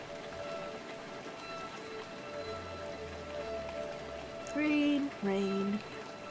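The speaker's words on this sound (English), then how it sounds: "Rain." Steady rain patters in the video game Rainswept, a soft continuous hiss of falling drops with a low rumble and a few brief tonal game sounds near the end.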